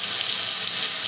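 Cold water runs steadily from a kitchen sink faucet in an off-grid cabin, a loud, close, unbroken hiss of flowing water with no talk over it.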